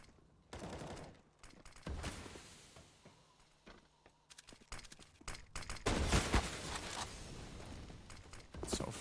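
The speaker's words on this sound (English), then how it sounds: "Simple trying to just spam the scout toward the smoke" Rapid scout sniper rifle shots in a Counter-Strike match on the Nuke map, fired in bursts of sharp cracks with mechanical bolt clacks between them, loud and close, with game ambience filling the gaps.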